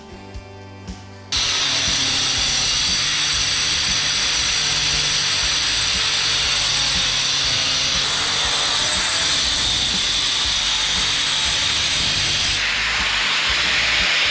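A 75mm bit cuts a piece out during an abandoned house renovation, a loud, steady, hissing grind that starts abruptly after a brief quiet lead-in and runs unbroken for over ten seconds.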